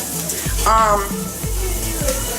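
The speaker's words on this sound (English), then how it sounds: "See, the bacon is crisping up." Steady sizzling and crackling from bacon frying in a pan, with a brief tonal squeak partway through and occasional clinks.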